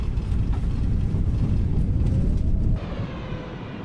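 Airbus A320 jet engines in reverse thrust after landing in a flight simulator game, a loud broadband roar that holds steady and then drops sharply to a lower, quieter rush as the thrust is cut back.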